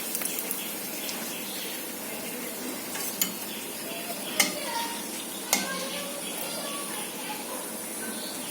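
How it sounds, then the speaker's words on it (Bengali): Whole garam masala, dried red chilies and bay leaves sizzle steadily in hot oil, a close continuous frying hiss with a few sharp spatters and faint stirring, quiet overall. "আর শুকনো লঙ্কা, তেজপাতা দিয়ে দিলাম ফোড়নে।"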